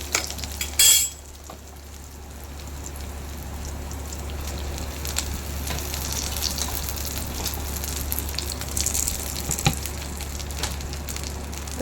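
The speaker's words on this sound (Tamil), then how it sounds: "இந்த கீரையை வதக்கி விடணும்." Spinach sautéing in a pan after onions have softened, with a steady soft sizzle, a sharp clatter as it goes in early, and occasional utensil scrapes and taps throughout.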